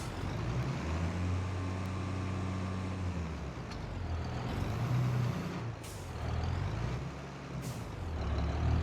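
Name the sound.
tractor engine straining in the video game Farming Simulator 22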